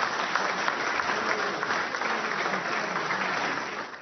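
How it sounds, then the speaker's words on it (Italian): Sustained applause fills a meeting of the ANA Alpini section in Gorizia after an election by acclamation, a dense steady clapping from a large crowd lasting throughout with no pauses. "per acclamazione dovete fare un enorme applauso"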